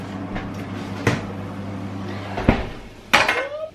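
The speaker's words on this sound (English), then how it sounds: "And then I'm going to put it back into the oven." A tray of roast chicken slid back into a home oven, then the oven door shut, heard as scattered clanks and a firm closing thump near the end, with no talk.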